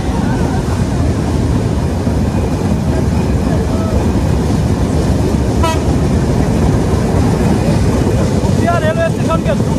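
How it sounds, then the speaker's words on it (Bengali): The Ruposhi Bangla Express intercity train passes through Rupdia railway station at speed, with a loud, steady roar and rumble, heavy wind buffeting, and a brief horn toot near the end. "মোটামুটি বেশ স্পিডে থ্রুপাস আন্তনগর রূপসী Bangla express by Rupdia railway station"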